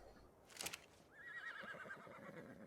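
A horse in Ark: Survival Evolved gives a short whinny, rising to a trilling neigh that wavers for over a second, with a soft thump just before it.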